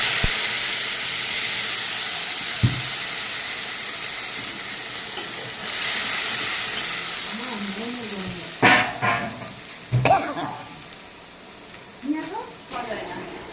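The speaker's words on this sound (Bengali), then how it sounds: "আমার মশলাটা প্রায় ভাজা হয়ে গেছে।" A ground paste of poppy seed, white mustard, green chili and ginger frying in a pan gives a soft, steady hiss and sizzle, with a voice talking over it in the second half.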